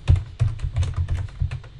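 Keys clack on a computer keyboard as code is typed, a quick uneven run of close, crisp taps and soft thunks with brief pauses between bursts.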